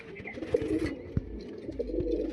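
A female pigeon gives low, gentle coos nearby over a steady murmur, with a few soft thumps and rustles in between.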